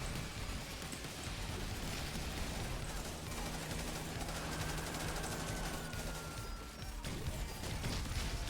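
Sustained SMG fire in a zombies roguelite video game, dense rapid shots blending into a constant loud barrage with chaotic in-game effects layered over it.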